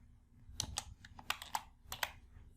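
Several crisp computer keystrokes are tapped out in a quick, uneven burst at close range while entering a formula in an Excel spreadsheet, with no voices heard.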